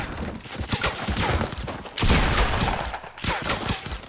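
Gunfire in a shooter video game's build battle, a dense, loud stretch of overlapping rapid shots with a few heavier blasts, continuous and close.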